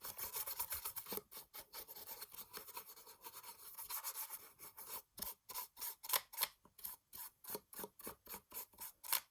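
A brush working black paint generously onto a shape, heard as quiet, close, rhythmic scratchy strokes that become faster and more evenly spaced toward the end.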